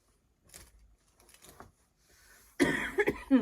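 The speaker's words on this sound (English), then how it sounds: "this cough is just killing me" A harsh, raspy cough erupts close by after a few soft rustles, sounding hoarse with a couple of rough bursts.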